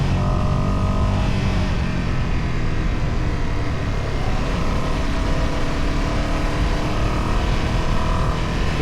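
Ducati Panigale V2 motorcycle on a test ride, its engine a loud, steady broadband roar under heavy wind rush, sustained and close throughout with no pauses.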